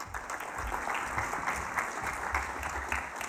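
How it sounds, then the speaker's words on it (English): A conference audience applauds steadily as a sponsor's representative is welcomed to the stage, a dense, even wash of clapping that holds at full strength for the whole stretch. "please give a big round of applause for Jock from RefMe"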